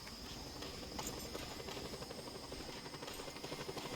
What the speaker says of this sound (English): Helicopter. I hear helicopter.